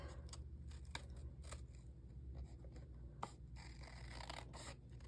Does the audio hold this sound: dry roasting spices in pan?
no